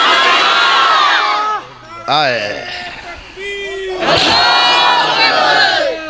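A crowd at an Islamic religious gathering chants a slogan in loud unison bursts, with sustained group shouts separated by a short pause and a single voice calling in between.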